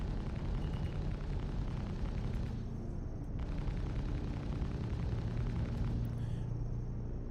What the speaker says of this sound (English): The guy just threw a fucking grenade at me.